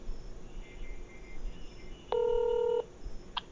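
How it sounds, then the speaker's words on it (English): Telephone keypad dialing tones sound through a closed door: one sustained dual-tone beep lasting most of a second, then two brief quick tones, over a steady low room hum with no talking. "Can hear his phone through the door."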